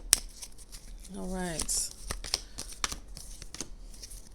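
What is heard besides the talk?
shuffling tarot cards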